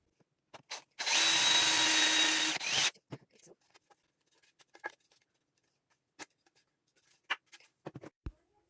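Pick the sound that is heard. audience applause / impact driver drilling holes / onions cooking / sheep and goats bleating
impact driver drilling holes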